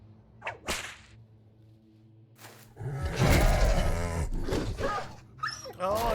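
Whip attacks crack sharply in the Battle Brothers video game: a few quick lashes with whooshing swings and growling creatures in a busy battle mix.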